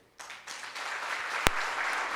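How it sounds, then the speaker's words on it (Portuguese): A church congregation breaks into steady applause that starts abruptly and holds at an even, moderately loud level, with one sharper clap standing out near the end. "Aplauda o Senhor aí."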